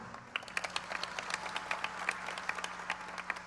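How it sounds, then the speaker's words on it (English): An audience at a university presidential investiture ceremony claps steadily, with many hands producing a sustained patter of moderately loud applause and a low hum in the hall. "You can clap, it's okay."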